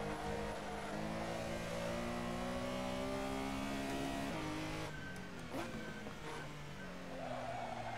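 A race car engine in a racing game at the Nürburgring GP circuit, revving and accelerating steadily through the gears with rising pitch, loud and continuous, with a brief tire scrub in the middle.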